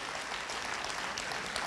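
Applause for second graders at a school back-to-school prayer service, a brief burst of steady, dense clapping from a room of people, even and sustained throughout.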